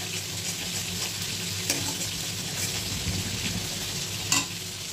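Cashew paste frying in a pan for a bitter gourd (kakrol) dish, a steady close sizzle with stirring scrapes and a sharp clink of a utensil near the end, no talking.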